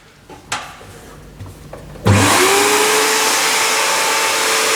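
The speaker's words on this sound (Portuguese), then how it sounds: "vou ligar então o aspirador" A vacuum extractor on a ZIONAIR SB11A blasting cabinet switches on after a few clunks and settles into a loud, steady roaring whine that holds to the end.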